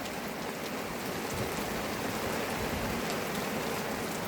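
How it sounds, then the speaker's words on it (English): Pouring rain drums steadily on an outdoor awning, a dense, continuous hiss of close drops with no voices. "So, hot chocolate, pouring rain."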